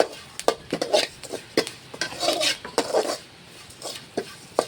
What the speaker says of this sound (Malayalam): ഞാൻ ഉപ്പും കൂടെ അതിൽ ആഡ് ചെയ്ത് ചെയ്ത് വറക്കുകയാണ്